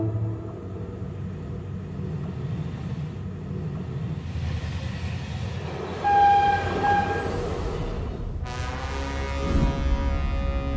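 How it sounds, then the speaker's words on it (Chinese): An electric train running on the Lhasa–Nyingchi railway in high-altitude Tibet, a loud continuous rumble of wheels and wagons with a horn-like tone sounding midway and building again near the end. "这是世界平均海拔最高、环境最复杂艰险、操作最困难的电气化铁路——拉林铁路。"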